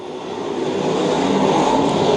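USAC sprint cars racing at Lakeside Speedway, with leaders working through lap traffic: a loud, continuous engine roar that swells slightly and holds steady throughout.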